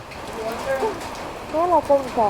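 Steady hiss of falling monsoon rain near Muthodi tiger reserve fills the background while people talk over it.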